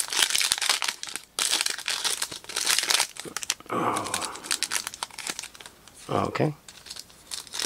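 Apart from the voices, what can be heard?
tearing open a retail basketball trading card pack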